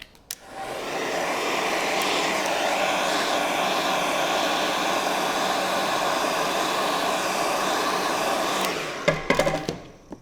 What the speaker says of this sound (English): So they get a heat gun.